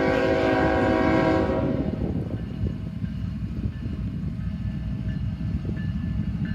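A freight train sounds a loud, sustained horn blast at an eastbound and northbound rail transfer in Greenwich, Ohio, then the horn cuts off and the heavy rumble and clatter of the passing cars continues steadily.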